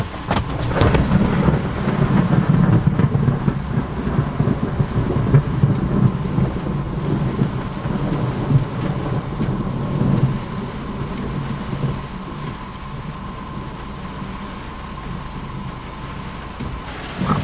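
Severe thunderstorm in Florida near Sebring on a July evening: steady heavy rain hiss with deep rolling thunder rumbling through the first part, then easing to continuous rain, no voices.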